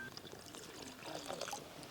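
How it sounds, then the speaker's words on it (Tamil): Water poured from a half tumbler into a pan of country chicken curry for Pallipalayam chicken, a steady close pouring and trickling splash lasting a couple of seconds, with no talk. "நான் இன்னொரு அரை டம்ளர் தண்ணி சேர்த்துக்கிறேன்"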